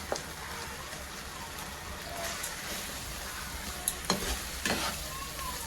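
Chopped tomatoes frying with spice paste for egg curry give off a soft, continuous close sizzle with a few scattered scrapes of a spoon against the pan.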